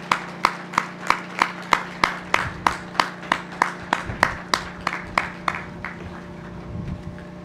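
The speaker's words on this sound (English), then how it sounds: "give them a big round of applause" Steady, evenly spaced clapping from an audience at a university commencement ceremony, about fourteen crisp claps in a regular rhythm that gradually thins into a softer, scattered patter.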